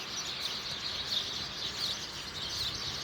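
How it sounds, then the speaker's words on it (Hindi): Flock of sparrows chirping in a rural area of Gujarat, a dense, fairly faint mass of overlapping high twitters and cheeps that continues without a break, with no talking. "कितने सारे गौरैया हैं।"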